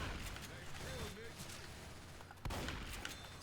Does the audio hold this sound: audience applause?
no